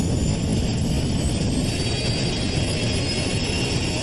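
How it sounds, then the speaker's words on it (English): A loud, steady roar of jet airliner engines at high power during a takeoff roll, broadband and unbroken, as the plane accelerates down the runway. "The crew struggles desperately to get the plane off the ground."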